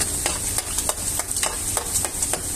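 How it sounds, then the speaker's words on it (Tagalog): Pieces of chicken sandwich fry two at a time in a pan, giving a bright steady sizzle with rhythmic scraping and stirring strokes up close, no voices. "Sa pagprito nga pala nito guys, kailangan tig 2 piraso yung ilalagay mo sa kawali"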